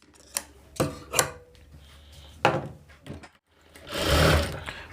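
A sewing machine stitching a hook strip onto a blouse, with short bursts of rattling needle action separated by pauses and a longer, louder run of stitching near the end, close and with no speech.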